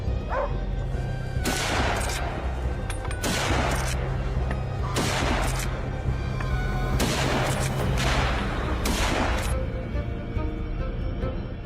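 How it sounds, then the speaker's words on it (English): Hunters fire their guns together at wild hogs in an orange grove. About six loud, crackling bursts of gunfire ring out close by at steady intervals, with dogs barking between them. "The hunters fired in sync"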